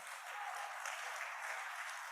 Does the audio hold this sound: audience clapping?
yes